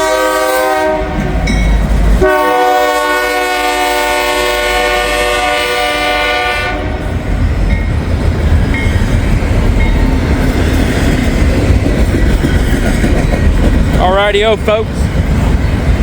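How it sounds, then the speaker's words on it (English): Norfolk Southern freight train 263 sounds a long, loud horn blast, then passes close by with a steady roar and wheel clatter on the rails, while someone speaks briefly near the start. "This is Norfolk Southern train 263."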